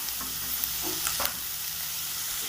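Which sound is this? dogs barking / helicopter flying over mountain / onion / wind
onion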